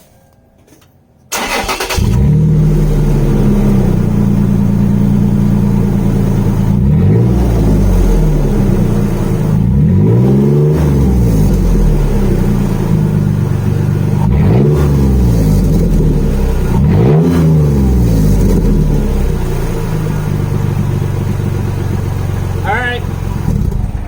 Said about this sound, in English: now, without any muffler, we're gonna start it and see what she sounds like